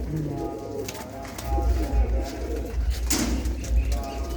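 Several pigeons coo nearby in low, throaty rolling bursts that overlap and swell, with some faint rustling and chatter in the background.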